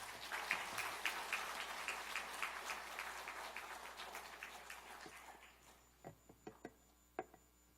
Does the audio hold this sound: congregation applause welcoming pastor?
yes